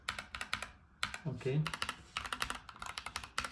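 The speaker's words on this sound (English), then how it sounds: "let me show you the sound of the keyboard. I ordered in the banana switch." Typing on a white Keychron K2 Pro mechanical keyboard fitted with banana switches gives close, crisp bursts of key clicks and clacks, with a brief spoken word between bursts.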